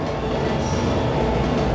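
Video-game train rolling past in a futuristic level, a steady dense rumble with rail clatter filling the whole short moment, fairly close, with no talk over it.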